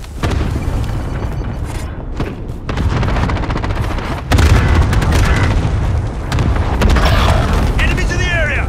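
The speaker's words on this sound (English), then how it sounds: "Allied cluster strike arriving." Cluster strike explosions rip through a Call of Duty: Warzone match on the Caldera map, a loud, sustained barrage of booms and rattling detonations with gunfire mixed in, continuous and dense throughout.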